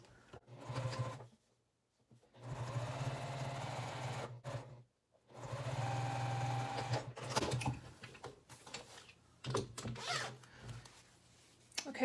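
A sewing machine back stitching a vinyl project bag runs in several bursts of steady mechanical whirring, stopping between runs, with handling noises close by.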